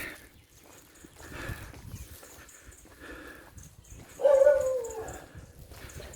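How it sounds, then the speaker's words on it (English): Stray dogs barking in a Grand Baie street, a few scattered barks and yips heard at a middle distance over faint street background, with one louder bark near the end. "Quite noisy dogs."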